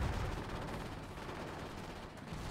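Rifle fire in the multiplayer shooter Forgotten Hope 2 at Pegasus Bridge: a dense, rumbling wash of gunshots rolls on steadily with no clear single cracks, fairly faint and distant.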